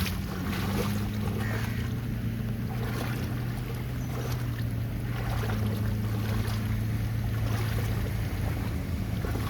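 A car comes along a flooded road in Panvel during heavy rain, near a flooding river, with a steady low engine drone and a constant rushing wash of water around it, unbroken and fairly close.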